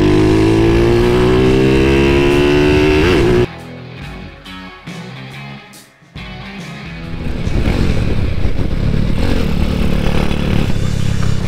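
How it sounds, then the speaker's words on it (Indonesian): Motorcycle exhaust on a group holiday ride, a loud steady engine drone with rising harmonic revs at first, dropping into a rougher clattering stretch midway, then swelling back to a dense roar near the end. "Dengan suara knalpotnya yang halus dan gahar, cuy."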